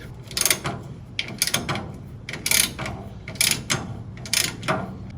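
A ratchet tightens a 13 mm bolt on a bracket at the back of a rusty VW Bus, clicking close and loud in a repeating rhythm of about six bursts.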